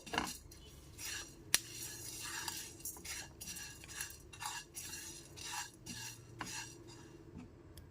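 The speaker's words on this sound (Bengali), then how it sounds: "এইবার মুগ ডালটাকে হালকা করে ভেজে নেবো" Mung dal being dry-roasted over a low gas flame in a pan, stirred with a metal spoon: quiet repeated scraping and clinking strokes in an irregular rhythm, close and soft, with one sharp tap.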